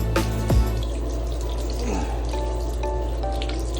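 Water squeezed out of a fursuit during washing, a close, splashy wet trickle with a sudden squish early on, followed by softer dripping and running water.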